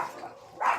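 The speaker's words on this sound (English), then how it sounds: "my dogs, they see one thing and the other two stop barking" Dogs barking at home, heard as a couple of short, fairly faint barks from some distance, with a louder bark near the end of the brief moment.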